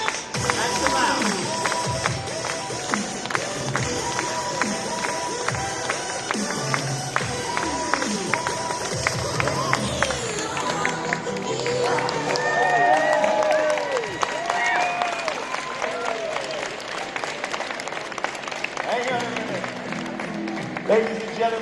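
A street-performance crowd watching a blindfolded stuntman hurdle through knives and fire claps and cheers loudly, with dense rolling applause and shouts that thin out partway through while voices carry over the noise.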